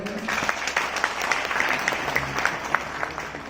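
Applause from listeners at a motivational speech event of Bharat Vikas Parishad, a short round of crowd clapping at moderate volume, with a few sharper claps and a faint hint of voices in the mix.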